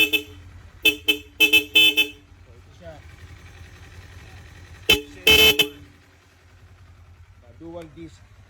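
Several sharp honks from a loud dual horn on a Kawasaki Z500 motorcycle, short blasts in quick clusters, with someone speaking briefly between them and an idling engine underneath.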